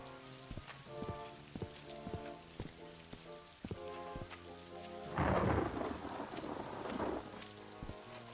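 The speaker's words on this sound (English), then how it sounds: "Unusual to wake up to a thunderstorm in the morning." Steady rain pours in a stormy Daggerfall Unity game world, with repeated crackling thunderclaps and a heavy rolling thunder burst near the middle, all free of talk.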